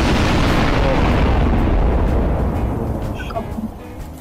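A big video-game explosion in Garry's Mod sandbox, a loud sustained roaring blast that fills the opening seconds and slowly fades with scattered debris crackles.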